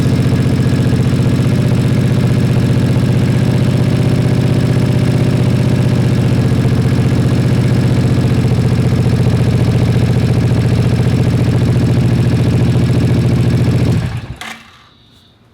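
A car engine, jump-started with a Topdon T01 portable jump starter, idles steadily and loudly with a constant low rumble, then cuts off abruptly near the end.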